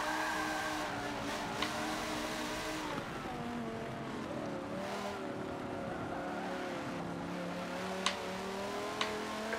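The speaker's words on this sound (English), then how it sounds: "This car seems quite loud," A loud race car engine in Forza Motorsport 7 revs and shifts through corners, its pitch rising and falling continuously for about ten seconds, with a few sharp clicks over the sustained roar.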